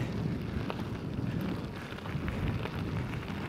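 Headwind gusting into a microphone on a small outdoor path, a loud, constant low rumbling buffet with no talking.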